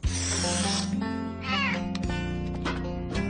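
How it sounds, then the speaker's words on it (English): A cartoon cat meows in a drawn-out, wavering cry over a continuous bed of background music, with the call rising and falling across a few seconds. "But you're Francine's kitty"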